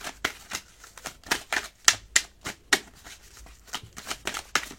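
Tarot cards riffle and snap in rapid, uneven bursts as a deck is shuffled close up, fairly quiet, with no talking.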